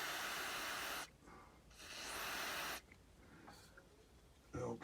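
Two long bursts of hissing aerosol lubricant spray onto a broken exhaust mounting bolt on a STIHL TS350 cut-off saw, each roughly a second and a half, close and loud, with quieter handling noises between.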